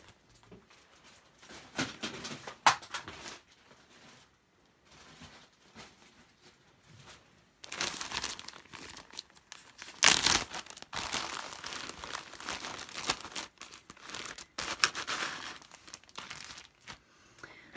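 A bag of vintage laces and trims is handled close by, giving intermittent crinkling and rustling of plastic in bursts with quiet gaps between them.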